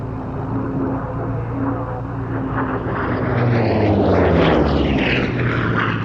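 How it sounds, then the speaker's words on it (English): Grumman F8F-2P Bearcat piston fighter, powered by an 18-cylinder Pratt & Whitney R2800-34W Double Wasp, makes a high-speed pass at an airshow, its engine roar swelling loud and steady toward a peak before easing slightly. "the Bearcat runs in at high speed for its first pass"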